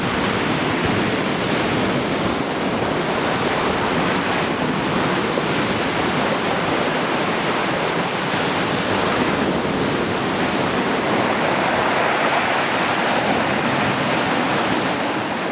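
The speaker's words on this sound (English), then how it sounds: "the seas are stirred up and these waves are rolling in" Rough, stirred-up ocean waves roll onto a small beach in a cove, a loud continuous roar of surf and wash with some wind rumble and no voices, sustained for the full length.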